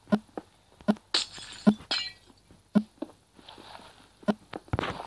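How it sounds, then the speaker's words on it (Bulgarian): Glass blocks shatter in the Minecraft video game, several sharp breaks spread across a few seconds, with crisp clicking steps and placing taps between them and no talk. "Пак трябва да чупя стъкла."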